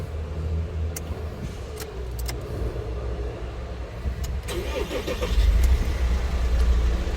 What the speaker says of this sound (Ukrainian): І зараз ми цей автомобіль вам заведемо.